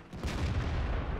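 A tank cannon booms in the World of Tanks battle on the Erlenberg map, a single heavy, rumbling blast with a sustained low roar filling the short moment, no voices.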